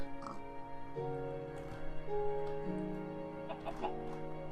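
A chicken in Minecraft gives soft, short clucks over a steady background of sustained musical tones, faint and fairly distant throughout.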